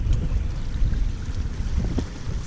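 Wind gusts across open water while fishing for catfish from a boat in Iowa. A rough, steady rush of wind buffets the microphone, with soft splashes of water underneath and no voices.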